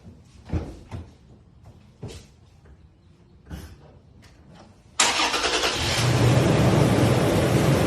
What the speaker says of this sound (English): I should be able to turn the truck on